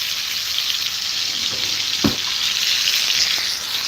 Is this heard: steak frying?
yes